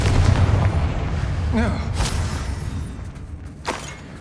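In the Hogwarts Legacy video game, a Confringo fire spell blasts with sharp booms and crackling bursts amid busy combat noise, one hit near the middle and a fainter one near the end.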